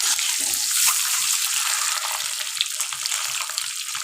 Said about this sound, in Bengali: আবার ঠিক ওই তেলেই আমি ডিমগুলো দিয়ে দেবো।